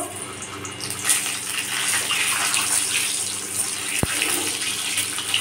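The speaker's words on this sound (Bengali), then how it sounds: "ডিমগুলো একইভাবে ভেজে নেব।" Boiled eggs fry in oil for egg biryani, producing a constant close hiss and bubbling, punctuated by a single sharp metallic click toward the end.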